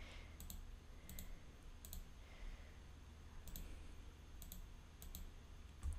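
Quiet, sharp computer mouse clicks while shift-selecting objects in a design program, about six isolated clicks spaced irregularly over a faint background hiss.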